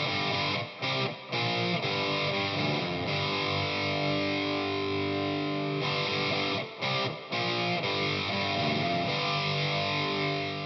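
A distorted electric guitar recorded through an ART Tube MP/C tube preamp plays a sustained riff with sharp stops and restarts, thick and saturated, with no voices.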